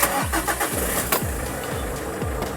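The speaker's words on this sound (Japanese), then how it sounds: "エンジンかけます" A car engine cranks repeatedly with a rhythmic starter whine and pulses, about five cycles in quick succession, loud and close, with no voices, before a vehicle-mounted inverter setup for a lithium iron phosphate battery is switched on.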